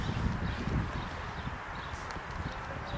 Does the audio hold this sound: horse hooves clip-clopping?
yes